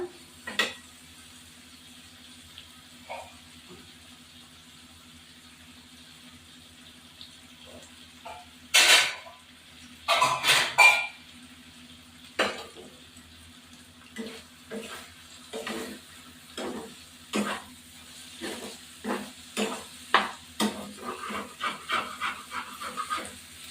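Bombay duck fish jhura cooks in a pan with coriander leaves, quiet frying hiss broken by a series of sharp scraping stirs and clinks against the pan that grow more frequent toward the end.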